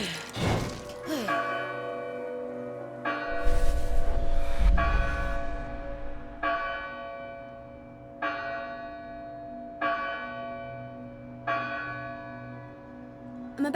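A large bell in the video game Dustborn is pulled by rope and rung repeatedly, each loud, ringing strike decaying slowly before the next, with a heavy rumbling clatter partway through.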